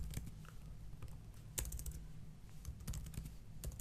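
Computer keyboard typing while editing code, a steady patter of quiet key clicks with a few sharper taps, no talking.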